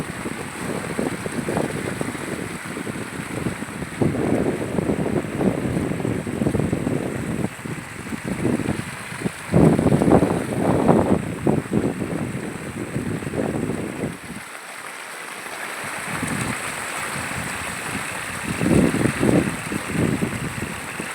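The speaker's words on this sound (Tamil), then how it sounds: "எவ்வளோ சவுண்டோட எப்படி போகுது பாருங்கள் தண்ணி" Floodwater surges loudly past during heavy rain around Chennai, a continuous roaring rush with churning, turbulent swells and a steady hiss. A brief lull comes partway through before the flow roars back up.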